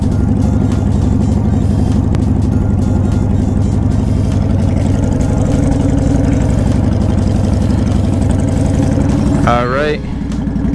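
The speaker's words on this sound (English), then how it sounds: "bike is just warming up right now" Honda Shadow 750 Phantom motorcycle with Cobra pipes idling while warming up, a steady close, loud low rumble that continues evenly throughout, with a brief higher-pitched sound near the end.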